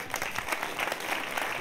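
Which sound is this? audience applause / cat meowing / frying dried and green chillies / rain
audience applause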